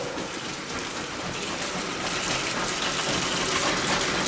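Tap water runs steadily into a kitchen sink as a knife is washed, giving a loud, continuous broadband rush that swells slightly partway through, close to the microphone with no speech.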